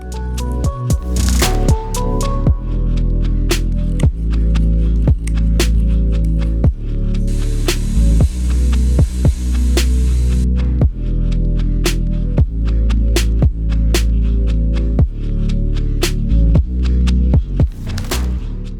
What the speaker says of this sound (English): I'm going to sand down to those lines, and then that will be our final shape of the jerkbait.